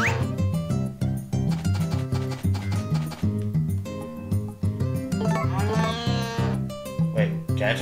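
A cow lows in the farming game Harvest Moon: A Wonderful Life, a moderate moo mixed into loud, steady, cheerful background music.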